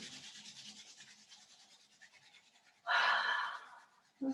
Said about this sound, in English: just start to rub the palms together in whatever shape you're in